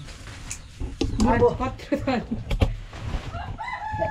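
A local rooster crows near the end, loud and close, while people talk over household noise at a Nepali home.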